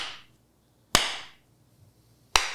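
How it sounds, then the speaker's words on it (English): Two sharp hand claps made right in front of a microphone, spaced about a second and a half apart, each loud and close with a short ringing decay and no talking. "give me a clap right in front of the mic"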